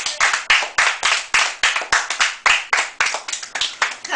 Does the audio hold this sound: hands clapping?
yes